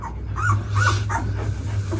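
A female dog tied out in the sun whimpers from the heat, giving several short, high, whining cries in an uneven series, close and clear over a low background hum.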